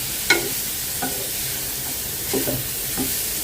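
Butter cooking in a frying pan during breakfast preparation, with a steady low sizzle and a few soft stirring scrapes of a utensil across the pan, close and moderately quiet with no talking.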